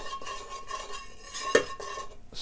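A utensil scraping and clinking in a pan while spice is slowly mixed into vegetables over low heat, quiet and close, with a single sharper clink midway and no talking.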